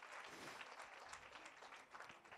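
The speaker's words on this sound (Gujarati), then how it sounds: "તાળી થઈ જાય એમના માટે એકવાર." Audience applause at a talk on women empowerment, dense steady clapping from a crowd filling the whole moment without any voices.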